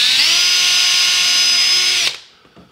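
A power drill whines at a steady high pitch for about two seconds while boring a hole in a boat panel, then stops sharply and leaves a faint clatter.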